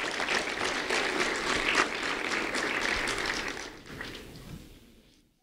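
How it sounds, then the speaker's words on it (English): An audience at a school recognition ceremony gives a round of applause, a dense rush of clapping that holds steady, then thins and fades out to near silence. "a round of applause for Isaiah Hunter"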